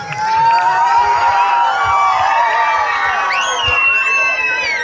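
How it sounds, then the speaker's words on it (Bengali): A live audience at a club stage event cheers and whoops to welcome a woman named Disha, a continuous loud crowd noise with high shouts and whistle-like calls rising over it. "সবাই একটু হাততালি সবাই মিলে প্লিজ"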